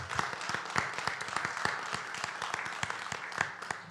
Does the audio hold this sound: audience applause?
yes